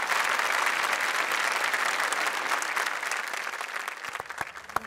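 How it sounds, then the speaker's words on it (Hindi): Audience applause at an awards show in India, a loud, dense crowd clapping that fades slowly toward the end and thins into a few scattered claps. "कम ऑन एवरीबॉडी, तालियां।"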